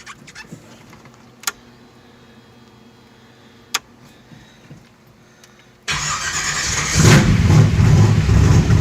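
A car engine with Pertronix ignition cranks and fires after several seconds of quiet with a couple of sharp clicks, then catches and runs loud and steady, revving up close by.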